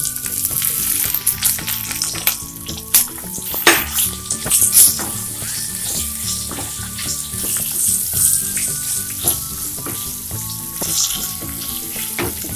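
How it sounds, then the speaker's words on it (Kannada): Slit green chillies with a pinch of asafoetida frying in hot oil, a loud close crackling sizzle with sharp pops and spits scattered throughout, no voices. "ಸ್ವಲ್ಪ ಕಲರ್ ಚೇಂಜ್ ಆಗಲಿ ಅಲ್ಲಿವರೆಗೂ ಎಣ್ಣೆಯಲ್ಲಿ ಹುರ್ಕೊಳ್ಳೋಣ."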